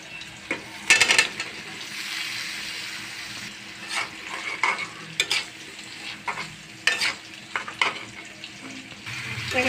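Radishes stirred into spice masala frying in a pan, with repeated scraping stirs and sizzling bursts in an irregular rhythm, close and fairly loud.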